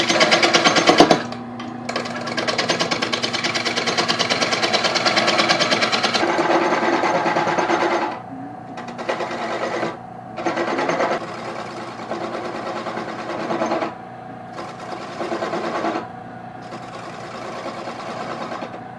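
A tenon cutter bites into soft wood with a loud, steady mechanical buzz. The whine stops briefly several times and starts again, close to the listener.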